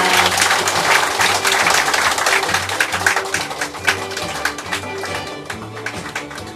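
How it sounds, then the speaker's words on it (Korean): Warm clapping from the audience at a corporate advisory appointment ceremony, loud at first then gradually thinning into scattered claps, with a low musical tone lingering underneath. "뜨거운 박수로 축하와 감사의 박수 부탁드립니다"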